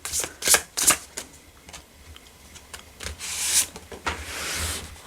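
Tarot cards are shuffled and drawn by hand: a series of quick papery riffles, slaps and rubs in uneven bursts, close and fairly loud, with no talking.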